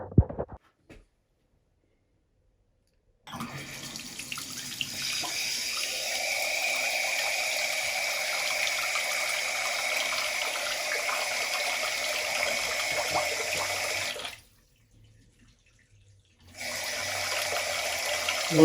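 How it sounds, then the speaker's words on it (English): Water runs from a Kohler Trocadero pedestal lavatory faucet, part K-15000-CP, in a steady even gush after a brief click, stops for a couple of seconds, then starts flowing again, close and fairly loud. "I'm going to turn on the water and we'll test it out."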